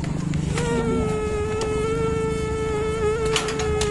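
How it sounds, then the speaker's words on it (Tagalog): Mosquitoes whine in a steady, high, close buzz that never stops, with a thin drone that wavers slightly in pitch throughout, heard alone without voices. "Daming lamok, mga kabisay."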